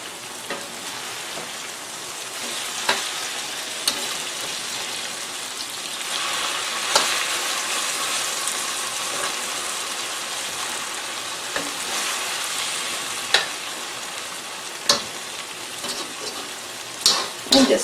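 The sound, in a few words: buttermilk okra frying in Crisco in a pan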